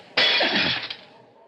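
A glass window shatters in a radio drama sound effect: one sudden loud crash followed by a tinkling cascade of breaking shards that decays over about a second.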